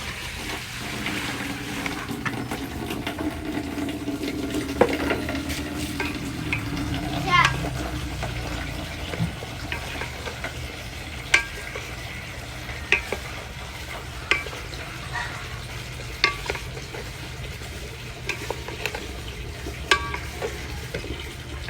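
Chicken pieces are stirred slowly in a cooking pot over a charcoal fire, giving a low scraping and sizzling texture with intermittent sharp clinks of the utensil against the pot, while someone talks faintly in the background.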